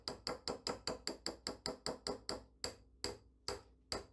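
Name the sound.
tapping fork to shake off excess chocolate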